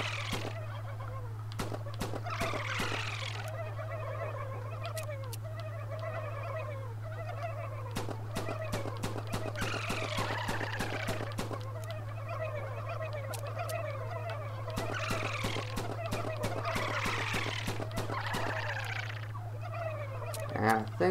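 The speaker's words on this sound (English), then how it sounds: "Lots of turkeys from all angles." Turkeys gobble in repeated bursts from several directions in the VR game Herocade on PlayStation VR, over a steady low electrical hum and sharp clicking taps.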